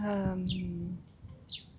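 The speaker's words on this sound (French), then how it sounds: "j'espère que vous entendez le bruit des petits oiseaux" Small birds in a city park give a couple of quick, bright chirps, fairly faint, after a low humming voice-like tone fades out.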